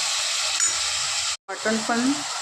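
Ground masala paste of cinnamon, cardamom, coriander and tomato, already fried in oil, drops into a pan of mutton gravy and sizzles, a steady hiss that briefly cuts out before the frying resumes with a short bubbling gurgle.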